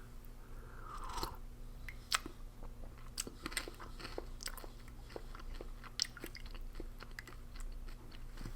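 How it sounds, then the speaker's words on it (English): Crunchy croutons being chewed in soup from a 2017 Russian civilian 24-hour winter ration, giving close, steady crunching bites with several sharper cracks and no talk. "Croutons are really crunchy still."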